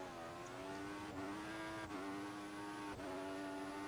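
An F1 2014 race car in a video game, in qualifying at Sepang, drones loudly and steadily with three quick early upshifts, each marked by a brief dip in the engine note.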